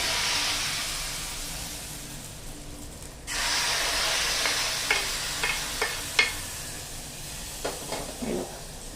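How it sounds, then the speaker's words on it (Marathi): Hot tempering of oil with curry leaves poured over a sweet-sour colocasia leaf curry: a sudden burst of sizzling hiss that fades, followed by a few sharp utensil clinks and scrapes. "आता आपण ही जी फोडणी आहे ही या भाजीवरती टाकूया, खमंग अशी फोडणी भाजीवर टाकूया।"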